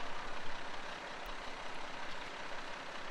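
A heavy concrete mixer truck rumbles nearby during a duplex floor pour, its engine a continuous broadband roar with brief higher tones, no talk.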